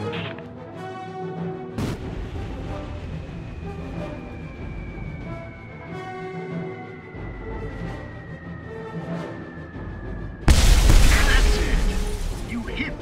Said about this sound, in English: Drop the bombs.